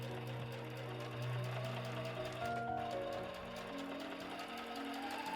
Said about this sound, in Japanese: この一番長いところを縫います。 縫うのはキルト綿の端ですよ。